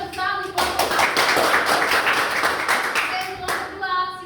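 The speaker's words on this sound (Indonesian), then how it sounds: "kita tepuk tangan di kelompok 1" A class group of students applauding together at a university microteaching competition, a dense burst of clapping from many hands lasting several seconds, starting abruptly and tapering near the end.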